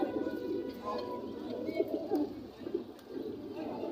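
Pigeons at an open-air pigeon market in Sakhipur, several birds cooing in soft repeated low calls close by, with a faint bustle of the market and muffled voices in the background.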